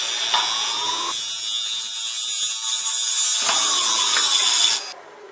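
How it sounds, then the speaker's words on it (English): Wood lathe gouge making shear cuts on a dry, hard ash bowl, a bright hissing whine with brief scraping bursts, close up, ending as the cut stops and only a quieter hum remains. "you can just hear from the cut, that is dry and hard ash"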